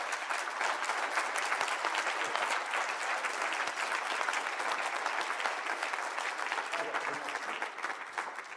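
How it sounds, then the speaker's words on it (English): A school band concert audience applauds steadily, a dense sustained wash of clapping from a crowd that keeps going for several seconds, fairly distant and even, tapering slightly at the end. "Let's give them a round of applause."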